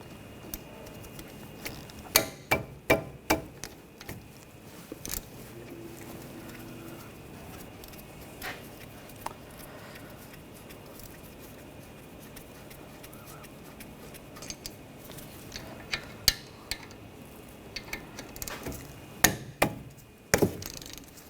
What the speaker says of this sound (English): We're going to take the caliper bolts out, use a 14mm socket.